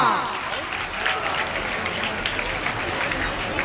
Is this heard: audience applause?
yes